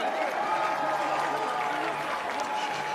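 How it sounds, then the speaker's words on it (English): A crowd at a rugby union match between Hong Kong China and Brazil cheers a try, producing a broad, steady roar with scattered applause at moderate distance, holding level throughout. "Listen to that crowd, Hong Kong China."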